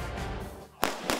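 Rifle shots during live-fire military training, two sharp cracks close together near the end after a stretch of low background noise, the first louder than the second.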